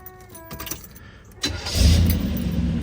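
Keys jingle briefly, then a 1970 Chevrolet Chevelle 396 engine cranks and catches, roaring into a loud, steady rumble close by.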